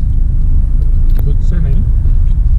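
Tata Tiago car driving along a road on a long highway trip, a steady low engine and road rumble filling the cabin throughout, with faint clicks and light movement sounds inside.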